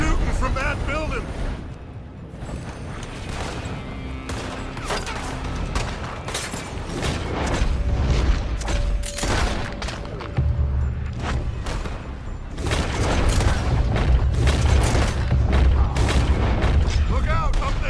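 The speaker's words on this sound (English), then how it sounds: "They're shooting from that building." Gunfire and explosions in Red Dead Redemption 2 during a shootout around a building: heavy booms and sharp shots keep going throughout, loud and close, sometimes rolling into thunderous blasts, with a game music and ambience bed underneath.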